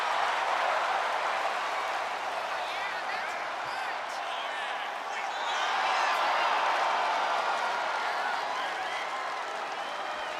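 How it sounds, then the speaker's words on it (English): A wrestling event crowd chants and applauds, a dense, distant wash of clapping and voices that holds steady and swells slightly midway. "Crowd chanting fight forever"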